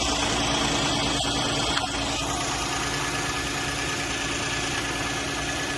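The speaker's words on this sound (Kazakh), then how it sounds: "Мотор керемет сағат секілді жасап тұр" A 2018 Kia K7 with a 3.0-litre petrol engine idles close by, a steady, even mechanical hum with faint ticking, smooth and unbroken apart from a small bump early on.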